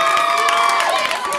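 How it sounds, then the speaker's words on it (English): A crowd at a live show in Asbury Park cheering and shouting with scattered applause, a dense loud steady roar of many voices up close for a brief moment. "you gotta give him a round of applause"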